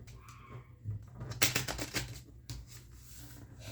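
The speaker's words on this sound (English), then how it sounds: "as long as the cards are shuffled, it doesn't have to be pretty" A deck of playing cards shuffled during a card game, heard as a quick burst of riffling, fluttering clicks in the middle, close and fairly quiet against a low background hum.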